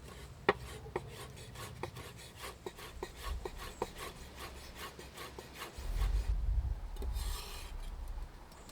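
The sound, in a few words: slicing chives with a knife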